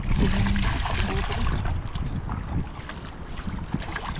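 Strong sea waves and wind buffeting a small fishing boat at sea, a loud continuous rush of water and wind noise on the microphone with no clear breaks.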